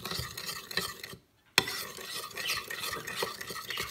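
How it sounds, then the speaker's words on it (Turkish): A spoon stirs a slime mixture tinted with acrylic paint, making continuous wet scraping and squelching that breaks for a brief silence and then resumes with a sharp clink. "şimdi kaşık yardımıyla karıştırıyoruz."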